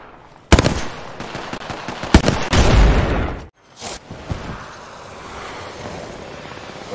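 Loud, close gunfire from the video game Apex Legends, with sharp automatic bursts and single cracks over a dense rumble, then a brief gap before softer distant firing.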